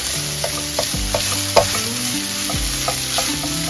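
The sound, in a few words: bacon frying in a frying pan on high heat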